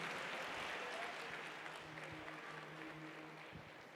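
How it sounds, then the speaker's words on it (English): A crowd at a South African election rally applauds and cheers, a dense, distant-sounding wash of clapping and crowd noise that stays fairly even and fades slightly toward the end. "Give her a round of applause."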